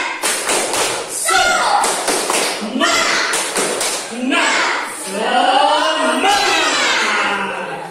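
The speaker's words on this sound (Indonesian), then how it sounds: "Siap? 1, 2, 3. Tepuk semangat." Schoolchildren in a lesson perform the rhythmic spirit clap, chanting loudly together in bursts punctuated by sharp group claps and thuds, close and energetic.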